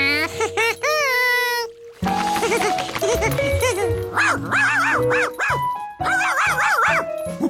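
A cartoon dog in Curious George yips and barks in bouncy, repeated bursts, loud and close, mixed with cartoon voices and playful sounds.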